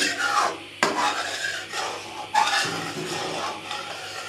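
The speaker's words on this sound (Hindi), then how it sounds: "अच्छी तरह इसको हिलाते रहना है" Thickening milk being stirred as it cooks down into khoya, continuous close scraping and rubbing of a spoon against the pan bottom with a soft bubbling undertone.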